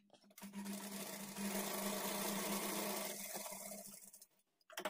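An electric sewing machine runs steadily for several seconds stitching lining blouse pieces, a close, continuous whirring hum that starts, holds and then stops, with a brief rustle of fabric afterward.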